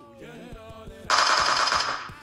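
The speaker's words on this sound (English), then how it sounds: "Somebody's shooting at me." Gunfire in a mobile shooting game comes in a rapid automatic burst that suddenly gets loud about a second in, over rhythmic background game sound.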